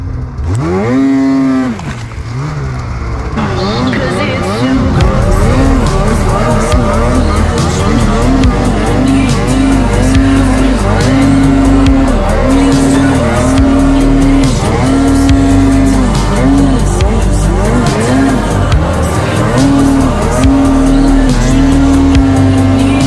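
A Polaris Khaos 146 snowmobile engine with a stuck throttle roars loud and close, holding a high steady rev with repeated surging pulses, while voices are heard faintly under it.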